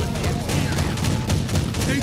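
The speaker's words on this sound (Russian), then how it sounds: "там пушка тяжелая, и они ее заряжают" A heavy cannon fires in the video game Warhammer 40,000: Inquisitor - Martyr, producing a dense run of rapid, crackling blasts against a loud battle din.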